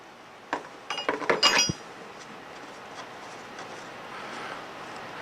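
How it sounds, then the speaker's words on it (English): A 3/4 wrench disconnects a metal valve from a control panel, giving a quick run of light metallic clinks and ratcheting taps near the start, then quiet room tone with no talk. "We'll next disconnect the valve from the control panel using a 3/4 wrench."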